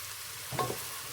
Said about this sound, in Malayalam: സവാള നമ്മുടെ നന്നായിട്ട് ഇളക്കി കൊടുക്കാം